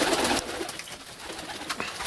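Pigeons coo softly in a flock, a brief low murmuring call heard alone at close range, with no talking.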